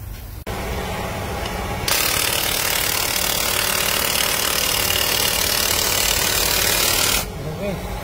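A steady engine hum from a Lexus CT200h hybrid with a replaced engine starts up and runs loudly and evenly for several seconds before dropping back, no voices heard.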